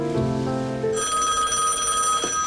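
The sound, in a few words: telephone ringing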